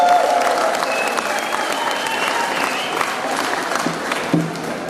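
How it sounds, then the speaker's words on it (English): An audience at an outdoor blue plaque unveiling in Cirencester applauds, dense steady clapping from a crowd that stays loud and even for several seconds. "put your hands together, please, for Mr. Brian, or Dr. Brian May"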